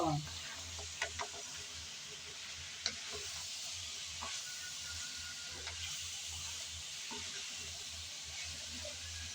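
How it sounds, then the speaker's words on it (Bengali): Bitter gourd, potato and shrimp frying in oil: a quiet, continuous sizzle with occasional soft stirring clinks and scrapes, fairly close. "এখন দিয়ে দেব করলা করলা আলু চিংড়ি মাছ ভালো করে আমি ভেজে নেব"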